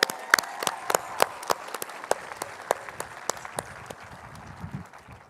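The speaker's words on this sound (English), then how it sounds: "let's give them a round of applause" Audience applause at a high school graduation ceremony, a burst of sharp hand claps that thins out and fades over a few seconds.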